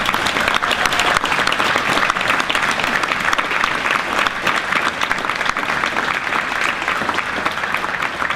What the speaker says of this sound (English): So please join me in a round of applause for Pat.